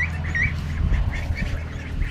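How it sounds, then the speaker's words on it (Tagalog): Ducks hatched from balut eggs and raised for two months on a rural farm in the Philippines quack in a loose chorus of repeated calls over steady farmyard background noise, with no talking. "mag-update tayo doon sa ating mga pinapisang itik sa mula sa balot"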